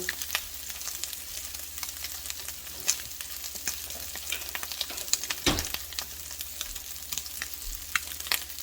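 Crab cakes fry in a pan with a steady, moderate sizzle and scattered small pops and crackles, with no one talking.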